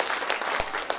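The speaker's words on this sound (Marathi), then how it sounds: "एकदा जोरदार टाळ्या वाजवायच्या आहेत" Audience applause at a Dhamma Chakra Pravartan Day gathering, a dense steady patter of many hands clapping together through the moment, moderately loud and close.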